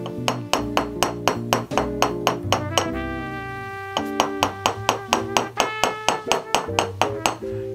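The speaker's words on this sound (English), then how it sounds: "I'm going to strike the opposite side of the wire to continue flattening." A small hammer strikes thin wire on a hard metal surface to flatten it for 1/87 scale sunglasses, a rapid run of sharp ringing metallic taps, close and loud, with a brief pause midway.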